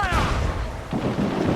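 Ship cannons firing in the naval combat of Assassin's Creed Black Flag, a dense burst of booming blasts that fill the clip at close, loud range with the roar of the battle around them.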